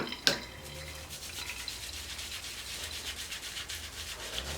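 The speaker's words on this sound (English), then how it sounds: "you could definitely tell the difference between how it's rubbing on my hand versus how it was before" Loose oil paintbrush bristles rubbed against a hand during washing, a soft rhythmic scratchy brushing close up after a brief knock at the start.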